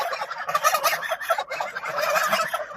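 Loud honking and gobbling calls from several farm geese overlap in a continuous, close-up chorus with no pauses.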